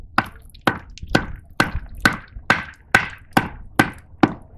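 A thick 8 mm knife blade is struck repeatedly to cut notches into a log in a snowy outdoor setting, giving ten sharp, evenly spaced knocks at a steady rhythm, close and fairly loud, with no talking.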